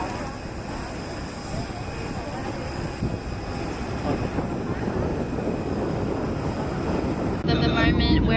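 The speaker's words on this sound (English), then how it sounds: "we're on the plane that went from Phu Quoc Island to Ho Chi Minh City, and we're just flying over Ho Chi Minh now" Airplane cabin in flight from Phu Quoc Island to Ho Chi Minh City, a loud constant broadband engine roar with steady hum, filling the clip without pause.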